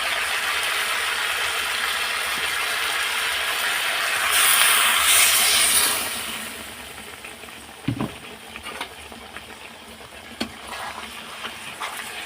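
Water splashes into a hot pan of frying pumpkin and vegetables, setting off a loud burst of hissing and sizzling, then settling into a quieter simmer with a few clanks of utensils.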